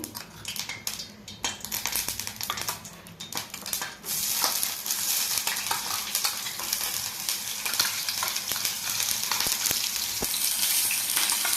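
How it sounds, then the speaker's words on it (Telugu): Onion paste dropped into hot oil in a pot, bursting into a loud, dense, continuous sizzle after a few seconds of lighter crackling and utensil clinks, close up with no voices. "ఉల్లిపాయ పేస్ట్ వేస్తున్నాము"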